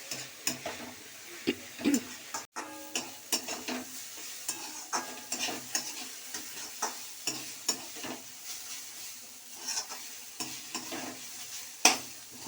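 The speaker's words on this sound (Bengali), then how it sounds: "এটা চাপা দেবো না, এই কম আঁচ করে ভাজবো।" Sliced banana stem (thor) fries slowly over low heat, a soft continuous sizzle broken by repeated sharp clicks and scrapes of stirring against the pan, with no talking.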